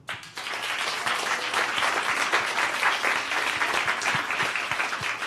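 Audience applause at a community gathering, a dense steady wash of many hands clapping that starts abruptly and carries evenly at full strength throughout, with no voices over it.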